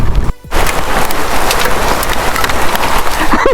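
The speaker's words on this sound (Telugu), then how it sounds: "వడగళ్ళు అబ్బా రాళ్ళతో కొడుతున్నట్టు ఉంది" Hailstones pelt down hard at a weekend getaway spot near Narsapur outside Hyderabad, a loud dense patter of countless impacts that drops out briefly near the start, then roars on steadily.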